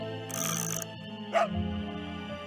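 A dog barks in the Nancy Drew: Ghost Dogs of Moon Lake game, one short sharp bark standing out over a tonal musical background, with a brighter hiss just before it.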